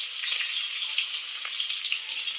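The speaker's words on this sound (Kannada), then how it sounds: "ಇವಾಗ ಆನಿಯನ್ ಹಾಕ್ತಿದ್ದಾರೆ" Onions frying in a pan for biryani, a steady close hiss of sizzling oil with small crackling pops running throughout, no voices.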